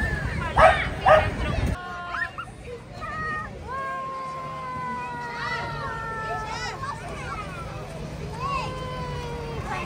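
Dogs bark and yip repeatedly at a Christmas parade in St. John's, Newfoundland, with excited whimpering cries close by over a lively outdoor crowd and children's chatter.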